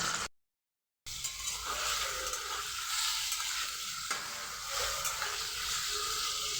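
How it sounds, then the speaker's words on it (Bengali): Prawns frying lightly in the same oil just used for potatoes, a steady bright sizzle and hiss with occasional stirring, heard alone after a short silent gap. "এই তেলের মধ্যেই দিয়ে দেব চিংড়ি মাছগুলো সবগুলোই একসাথে দিয়ে দেবো হালকা করে ভেজে নেব"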